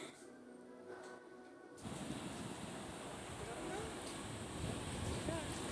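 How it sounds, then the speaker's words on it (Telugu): Sea waves washing onto a beach at the New Year seaside, a soft steady surf roar that swells louder after a quieter opening, with some wind noise on the microphone. "ఇప్పుడు అలలు అయితే చాలా స్లోగా వస్తున్నాయి"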